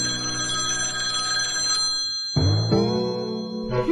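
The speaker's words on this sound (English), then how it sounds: "That's the telephone." Telephone bell ringing in a children's cartoon, a steady electronic ring that stops, then returns after a brief pause, loud and close with no talking.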